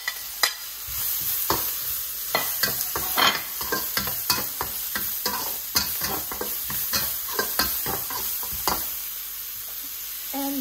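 Thai chilli beef stir-frying in a hot pan as pepper goes in: continuous sizzle under repeated sharp scrapes and clacks of a utensil stirring, close and lively.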